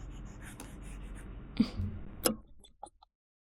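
Someone writes a sentence on a board, quiet scratching strokes and a few sharp taps of the marker or chalk over a soft background hiss, ending in silence.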